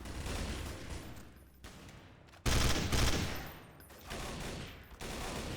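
Rapid, dense automatic gunfire from several directions in the shooter game Counter Strike Source rattles almost without pause, loud and continuous, swelling into a heavier burst about halfway through.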